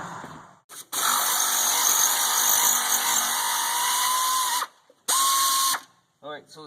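A 10 mm ratchet or power driver spins bolts loose to free the ABS unit from a Ford F250 dually truck body, delivering two long, loud, steady whirring runs separated by a short pause, then a brief snatch of talk at the end.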